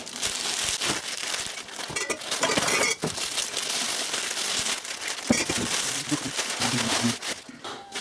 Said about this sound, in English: get them out of the plastic